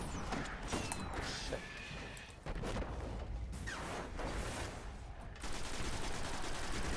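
Icebreaker exotic sniper rifle in the Destiny video game firing in several loud sharp reports with mechanical clatter between them, over busy in-game action.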